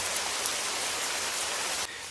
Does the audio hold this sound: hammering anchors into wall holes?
no